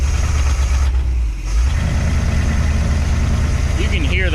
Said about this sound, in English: You can hear the brakes are stuck.